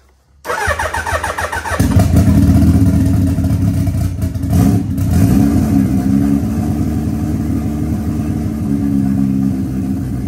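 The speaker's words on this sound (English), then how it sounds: "let's see if this bike still starts" A turbocharged Suzuki Hayabusa motorcycle engine cranks briefly, then catches and settles into a steady, loud idle close by, with no voices over it.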